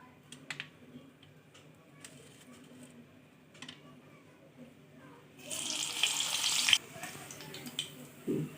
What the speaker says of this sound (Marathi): दोन कापलेल्या मिरच्या त्या आपण तळून घेणार आहोत